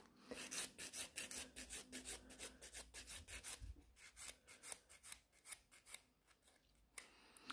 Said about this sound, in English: I'm using the Nail Perfect File 100 by 180 grit